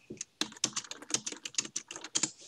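Quick, irregular typing on a computer keyboard, a close run of crisp key clicks with short pauses and no voices.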